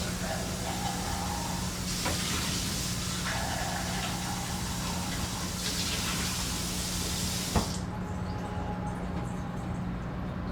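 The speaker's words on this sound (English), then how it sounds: "I just gotta wash this off." Steady, loud hiss of tap water running while a cup is rinsed off, continuous for several seconds before cutting back near the end.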